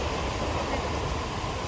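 A Mumbai local train heading toward Dadar makes a constant, close rumble of wheels and carriage noise from inside. Faint background voices are mixed in.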